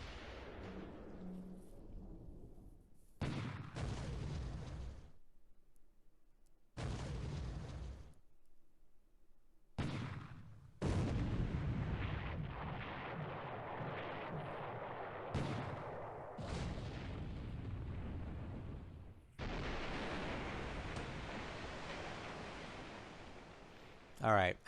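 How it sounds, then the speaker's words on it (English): Anti-aircraft guns blaze away in the naval wargame War in the Pacific AE as the USS Houston engages Japanese transports: loud, repeated bursts of booming fire separated by brief gaps, building to a long sustained barrage near the end. "There's the AA guns firing again."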